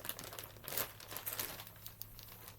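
Plastic bag crinkling and rustling steadily as it is handled and pressed shut, close and continuous with a few louder crunchy bursts.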